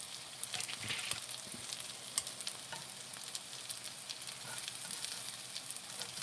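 King trumpet mushroom scallops fry in a cast iron pan, giving a soft, steady sizzle with small crackling pops throughout, fairly faint and with no voices.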